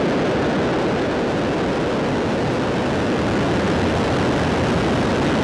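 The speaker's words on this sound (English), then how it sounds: "Ignition. And liftoff of Falcon 9." A SpaceX Falcon 9 lifts off from SLC-4E at Vandenberg on the Transporter 14 mission. Its engines make a continuous, loud, broadband rumbling roar that stays steady throughout, with no voices.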